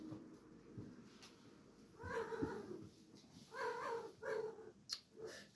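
A domestic cat named Sacha gives several faint, short meows in quick succession over soft background noise.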